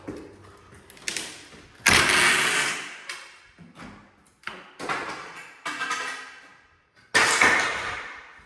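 Plaster being pulled off a wall during renovation demolition, heard as a series of loud crumbling, scraping crashes close by, each bursting out and then tailing off, with short quieter gaps between them.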